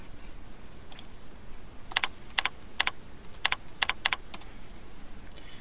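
Keys on a computer keyboard click in short bursts, a quick irregular run of crisp taps against quiet room noise, fairly close and moderately loud.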